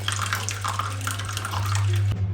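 Boiled water pours steadily into a vessel in a home kitchen while baking ginger cinnamon cookies, a continuous close splashing stream over a low hum that stops abruptly at the end.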